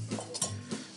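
A whisk stirring custard cream in a pot for a puff pastry mille-feuille, a few soft scraping swirls and light metallic taps against the pot, close and quiet.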